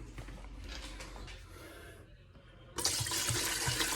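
Apple cider vinegar poured steadily into a pot, a bright splashing pour that starts after a quieter stretch and continues loudly to the end.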